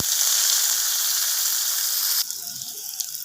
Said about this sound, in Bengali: এবার দিয়ে দিচ্ছি পেঁয়াজ কুচানো